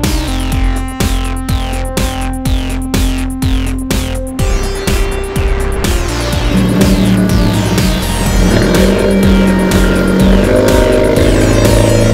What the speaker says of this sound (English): driving an Alfa Romeo 4C